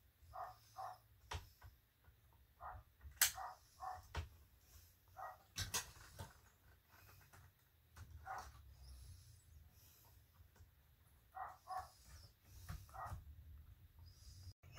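Dogs kept outside bark at passersby in repeated short bursts and clusters, some yips among them, heard at a moderate distance over steady low background rumble.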